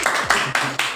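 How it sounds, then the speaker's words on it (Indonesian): Dense applause for a student group in a classroom teacher-training session, steady, fairly loud clapping in short rhythmic surges with a faint voice mixed in. "Tepuk tangan untuk kelompok Gurami"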